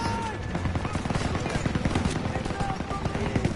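MG-42 machine gun fire in the Call of Duty WW2 video game, a dense rattling barrage of rapid bursts sustained throughout amid battle noise.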